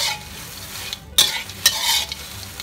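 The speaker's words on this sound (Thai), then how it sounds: "ข้าวต้องขั่วแบบว่าใจเย็นๆนะครับ" Rice dry-roasting in a pan for chili powder, steady scraping and stirring with soft rustling grains and a few sharper clinks, close and fairly loud, briefly cut by a silent gap, with no talk.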